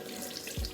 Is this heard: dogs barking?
no